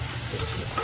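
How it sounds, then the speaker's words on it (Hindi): Hot water hits a cooking paste of garlic and onion for a jackfruit curry, giving a brief, loud, close sizzling hiss and boiling rush. "गर्म पानी डाल दिया गर्म चीज में तो जल्दी से उबलने लगती है"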